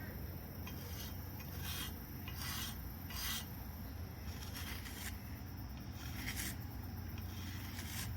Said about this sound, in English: Start it off by just dulling the edge, just cut off the apex here.